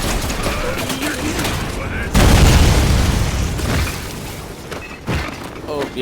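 A cannon mounted on a train fires in the video game Lost Planet 2, a heavy booming blast bursting out midway, loud over a rumbling background, with someone talking around it.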